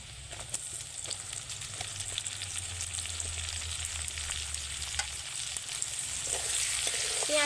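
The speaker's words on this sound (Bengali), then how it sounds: "পেঁয়াজটা কিন্তু বেশ খানিকটা ভাজা ভাজা হয়ে গেছে দেখুন" Chopped onion sizzles in oil with ginger and garlic in a pan, a steady close hiss with a low rumble early on that fades, no voices.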